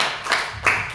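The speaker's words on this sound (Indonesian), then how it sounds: "Yang percaya menang boleh kita berikan tepuk tangan bagi nama Tuhan." A church congregation claps together during a worship service, a couple of loud, close bursts of hand claps in quick succession with no voices over them.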